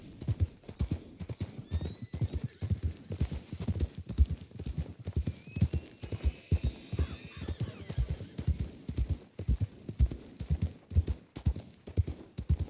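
Wild horses galloping in the video game Red Dead Redemption 2, a steady run of dense hoofbeats with an occasional whinny, moderately loud throughout with no talk.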